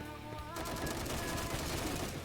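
Rapid gunfire rattles through a competitive shooter match, dense overlapping shots filling the moment at steady loudness with no talking.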